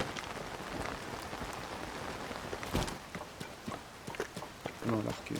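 Steady rain falling in the video game Zelda: Tears of the Kingdom, a dense continuous patter of drops with some clip-clop-like hoof or footstep taps on top, heard alone at moderate level.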